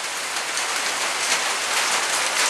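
Steady springtime rain falling, a dense broadband hiss of drops on surfaces, even and continuous at moderate loudness with no voices.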